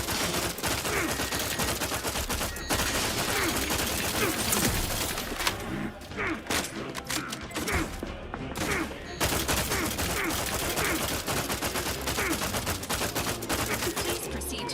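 Dense, rapid gunfire from The Outer Worlds 2 roars almost nonstop, bursts of automatic fire and crashing impacts overlapping with a brief lull midway before the barrage resumes, loud and close throughout.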